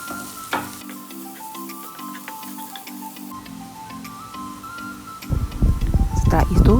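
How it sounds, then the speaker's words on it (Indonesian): Garlic frying in oil for a curry puff filling gives a soft crackle under steady background music, then bursts into a louder, denser sizzle near the end. "Lalu goreng lagi hingga bawang putih berubah warna."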